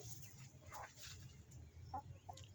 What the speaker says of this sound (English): I got chickens everywhere